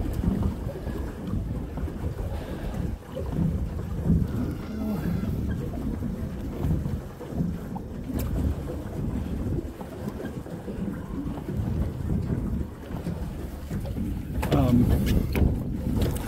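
A paddle boat with a single occupant moving across a lake, giving a steady churning wash of water under constant wind buffeting on the microphone, with a sharper splashing burst near the end.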